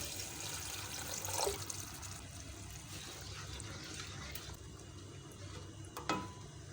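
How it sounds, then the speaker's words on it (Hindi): A cup of water is poured into fried, dried-out masala in a cooking pan for a bottle gourd and chana dal sabzi, a faint steady splashing pour with a couple of small knocks. "एक कप पानी डाल रही हूँ।"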